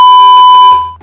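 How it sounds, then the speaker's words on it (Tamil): A single loud, steady electronic beep that holds for under a second before cutting off. "Beep beep beep beep."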